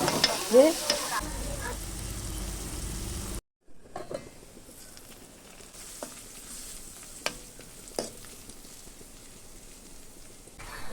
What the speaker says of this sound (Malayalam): ഇനി അതിലോട്ട് ചെറുതായി അരിഞ്ഞ സവോളയും കൂടി ഇട്ട് കുറച്ച് ഉപ്പും കൂടി ചേർത്ത് ഇതൊന്ന് നന്നായിട്ടൊന്ന് വഴറ്റിയെടുക്കണം